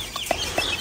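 A Serama rooster gives a couple of short, faint calls close by, sounding against a quiet background hiss.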